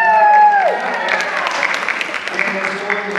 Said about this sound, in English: we're going to give them a big round of applause as well